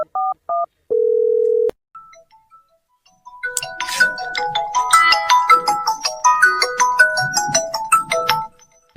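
A telephone is dialed with quick beeping keypad tones, followed by a long steady tone and then a bright electronic ringtone melody playing loudly and repeating until the end.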